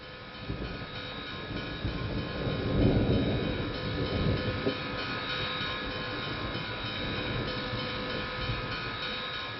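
Tram running through Bogotá, a continuous rumbling rail roll with rattling and clatter that swells briefly and then holds steady for nearly ten seconds, close and fairly loud, with no voices.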